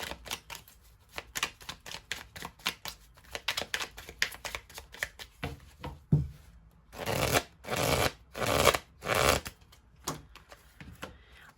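Oracle cards are shuffled and drawn by hand, a quick run of crisp papery riffles and taps, then several longer, louder bursts of shuffling close to the microphone, with no speech.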